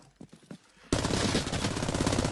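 Rapid automatic gunfire erupts in the Arena Breakout video game after a few quieter scattered sounds, then keeps going as a loud, dense burst of shots to the end.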